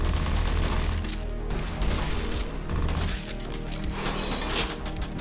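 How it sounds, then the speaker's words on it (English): Gib effects from a sci-fi mech top-down shooter video game: repeated wet, crunchy bursts and crashing splatters in quick succession, loud and dense, with no talking. "There's some of the gib sounds"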